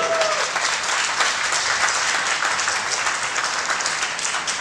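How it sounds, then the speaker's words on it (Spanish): Guests at a Catholic church wedding clap for the newly married couple, a full, steady burst of applause from many hands filling the room throughout. "Un aplauso fuerte."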